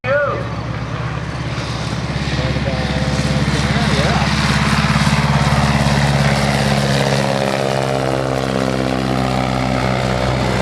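A Fleet 16B biplane passes overhead at an air show, its propeller engine a loud, sustained drone that slides in pitch as it goes by, with a voice talking over it.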